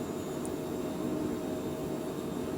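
Aircraft engines at takeoff throttle in a flight simulator, a steady, unbroken jet roar with a faint whine on top, holding at a constant level throughout.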